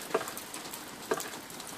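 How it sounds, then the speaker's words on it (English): Rain falling outdoors before dawn near a smoker cooking a Thanksgiving ham, a steady close patter with two sharper drips or taps standing out over the hiss. "As you can see, it's raining out here."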